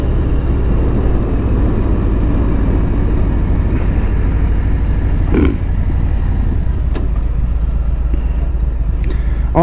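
A 2020 Harley-Davidson Street Bob cruiser engine rumbles steadily and loudly while riding, a continuous deep low throb with wind noise and a few small mechanical knocks, no talking.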